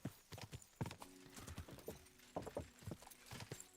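Horse hooves clip-clop steadily along a road in Kingdom Come: Deliverance 2, a brisk close rhythm of repeated hoof strikes with a brief whinny, no talk over it.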